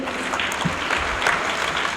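Loud, sustained applause from a crowd at a political rally welcoming a guest, a dense wash of clapping that holds steady from start to finish without speech.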